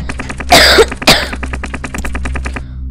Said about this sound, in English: I got a cough in there.